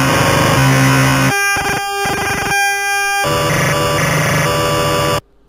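Renoise tracker pattern playing with the arpeggio 00 command, a loud, dense synthetic texture of rapidly shifting pitched tones and choppy bursts that runs steadily for about five seconds, then cuts off abruptly.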